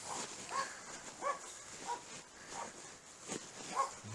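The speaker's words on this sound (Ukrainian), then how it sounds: "собаки гавкають" Dogs in a village bark faintly and at a distance, in a slow, repeated series of short yelps over steady background hiss.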